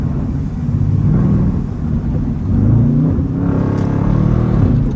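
A Dodge Durango SRT with a 6.2 engine and no supercharger drives in the rain, its engine a loud, steady low rumble with a rising rev partway through, heard from inside with no talking.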